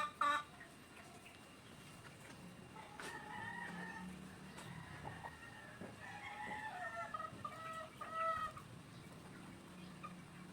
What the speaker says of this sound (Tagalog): Pinakawala namin ang lahat ng cockerels para sila makapulpog.